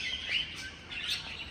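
Parrots and lovebirds in an indoor winter garden in Temirtau chirp steadily with busy, overlapping high tweets close by.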